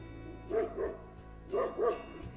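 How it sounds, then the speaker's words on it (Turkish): A farm dog barks four times in two quick pairs, fairly close, over a low steady background hum. "Köpek çiftlikte arkada."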